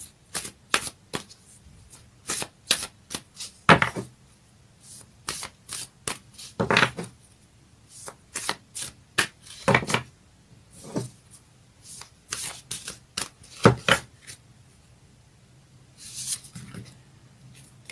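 Moonology oracle cards being shuffled by hand, a run of crisp riffling bursts and soft slides repeating in irregular rhythm, close and clear with no talking.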